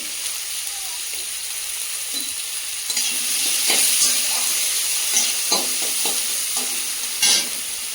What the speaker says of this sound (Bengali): কষানো পেঁয়াজ, চিংড়ি মাছগুলো দিয়ে দেবো